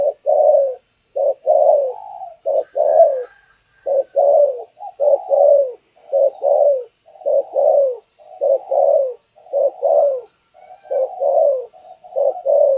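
Spotted dove (Thổ Sấm decoy bird) during breeding pairing gives a long run of repeated low coos in steady phrases, close and clear with nothing else heard.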